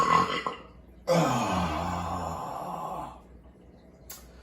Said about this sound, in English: Lovely burp